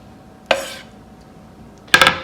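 Chopped tomatoes for homemade guacamole go into a bowl, heard as two sharp clinks of a utensil against the dish, a single one and then a quick double tap, close and fairly loud over a quiet room.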